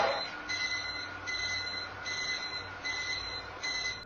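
A household alarm beeps in repeated bursts while a bear roams a kitchen, the electronic tones pulsing steadily at moderate loudness over a low background rumble, with no talking.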